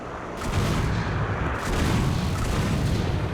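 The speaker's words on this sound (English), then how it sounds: "I'm just firing off into the distance." A space frigate's guns firing in War Thunder, a dense, heavy barrage of booming shots that blurs into a continuous roar, loud and close throughout.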